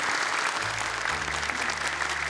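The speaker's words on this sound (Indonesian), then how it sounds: "tepuk tangan dong untuk Dewan Juri kita" A studio audience claps for the jury on an Indonesian Quran memorization competition show, steady dense applause throughout with a low hum underneath.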